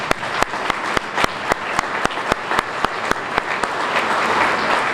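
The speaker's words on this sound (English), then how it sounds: "big round of applause." A big round of applause from a crowd honoring a departing U.S. Navy medical team that fought COVID in Baton Rouge, with dense steady clapping and sharp louder claps standing out at a quick rhythm throughout.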